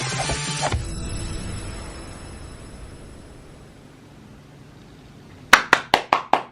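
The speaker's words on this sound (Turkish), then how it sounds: "Bir tek ben mi alkışlıyorum?" A single person claps hands about six times in quick succession, each clap sharp and fairly close, following several seconds of quiet room hiss with a brief burst of background noise at the start.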